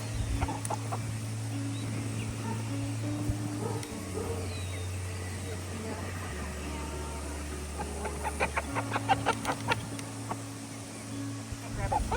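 Free-range chickens cluck and murmur nearby in a steady chorus, with a few sharper squawks toward the end and low tonal hum underneath.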